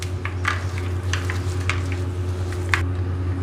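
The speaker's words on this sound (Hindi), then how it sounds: "अभी हम हाथों की मदद से अपने मसाले मिक्स कर लेते हैं।" Whole cumin, chopped green chilli and fresh coriander get mixed by hand into an aloo tikki potato mixture, making soft repeated squishes and pats over a low steady hum.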